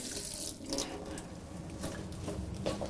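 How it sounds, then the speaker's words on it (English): Vegetables rinsed under a running kitchen tap: a steady, even rush of water, fairly quiet, with light splashing changes throughout and no voices. "And then you must give it a good rinse"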